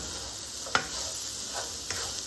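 Chenai, elephant foot yam, roasting in oil and being stirred, a low sizzle under two or three soft scraping strokes, one brief sharp clink of the spoon early on.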